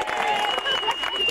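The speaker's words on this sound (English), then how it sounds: "Matthew Biddle, give him a big clap, please." Audience at a 1997 beach kids' show claps steadily for a mind-reading act, the dense applause continuous and fairly loud, with some voices mixed in.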